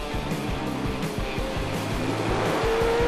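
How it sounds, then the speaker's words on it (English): Drag race car spinning out on the top end, tires squealing loudly over a roaring engine, with a rising screech toward the end; no talk. "My golly gee, Eric Autry just had a huge spin out on the top end."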